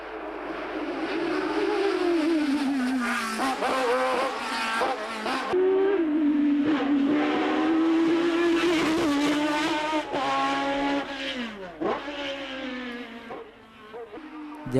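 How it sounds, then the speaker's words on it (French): A V8 Ford-engined race car screams at high revs on a hillclimb, rising and falling through gear changes as it climbs, loud and continuous with a whining, buzzing edge. "Chambéraud, qui a remplacé le BMW 4 cylindres par un V8 Ford"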